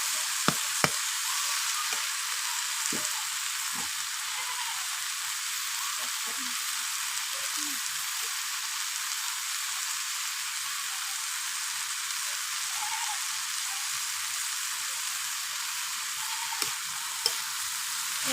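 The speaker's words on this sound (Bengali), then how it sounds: "এই জন্য শাকটা ভালো করে ভেজে নেব।" Boiled leafy greens fry in a pan with a steady, even sizzle throughout, broken now and then by faint taps and stirring scrapes.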